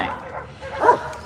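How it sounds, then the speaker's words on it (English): Dogs barking: a couple of short, mid-distance yips and barks, one sharper bark standing out near the end. "You can hear the dogs bark."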